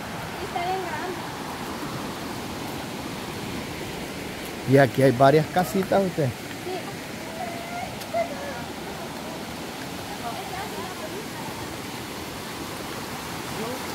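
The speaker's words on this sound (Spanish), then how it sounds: "En esta vega del río, pero este río está bien bonito." A river flows steadily through an open riverside meadow, a constant broad rushing wash heard from nearby throughout, with someone speaking briefly over it.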